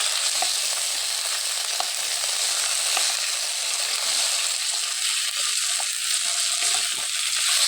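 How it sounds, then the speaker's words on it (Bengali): Rohu fish heads fry in a pan with a steady, loud hiss and crackle that holds evenly throughout, with small pops scattered through the sizzle. "আমার মাছের মাথাগুলো আমি ভাজা হচ্ছে কিনা"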